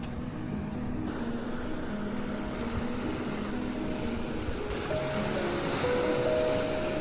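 Ocean surf rolling onto a beach near Acadia National Park, a steady loud wash of waves with a faint engine-like hum underneath and no talking.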